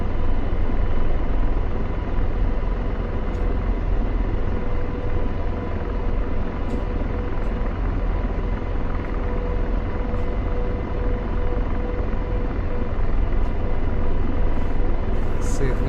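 An AH-64D Apache helicopter in DCS World flight simulation, its rotor and engines producing a loud, continuous droning rumble that holds steady throughout, with faint clicks scattered over it.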